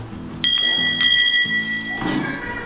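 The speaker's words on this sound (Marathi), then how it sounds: "बेल छान लावली" A bungalow doorbell chimes twice, bright ringing tones a half second apart, followed by a soft thud and low indoor room noise.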